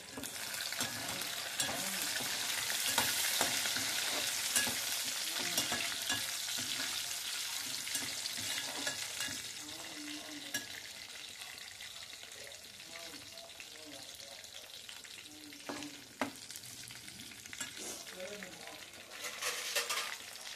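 Curry leaves fry in hot oil as they are stirred, a steady loud sizzle and crackle that eases slightly partway through, with occasional scrapes and clinks of the spoon against the pan.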